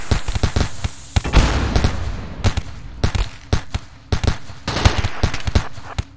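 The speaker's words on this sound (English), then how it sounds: "Hatton took some damage from that turret exploding" A turret exploding in the video game RimWorld, followed by a dense run of sharp, loud cracks and bursts that repeat irregularly like gunfire, with one bigger blast near the start.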